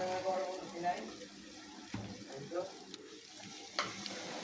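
Soft sizzling and scraping as rice is fried and stirred in a pan, with occasional clinks of a utensil; fairly quiet.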